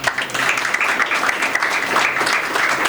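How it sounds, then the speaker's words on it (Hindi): A church congregation applauds during a sermon, a dense and even wash of many hands clapping that stays steady at moderate loudness with no break. "इसके बाद सर के लिए तालियां बजा दो"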